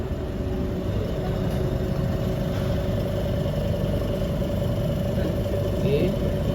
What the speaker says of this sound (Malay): saya akan ukur speed motor